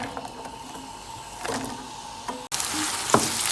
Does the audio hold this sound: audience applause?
no